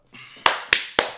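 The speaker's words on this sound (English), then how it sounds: "This round of applause isn't just for Dave." Three sharp, distinct hand claps ring out close and loud at an even, deliberate pace, each one standing alone with a short decay and no voices over them.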